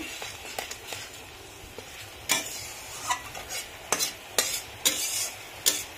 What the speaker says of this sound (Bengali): এখন এই মশলাটা আমি ভালো করে ভেজে নেব।